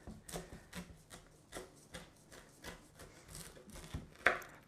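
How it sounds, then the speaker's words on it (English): A knife slicing through a freshly baked rosemary focaccia with crispy edges, giving soft repeated crunchy cuts in a steady rhythm, close and fairly quiet, ending with one sharper crackle. "It is time to cut our beautiful focaccia bread"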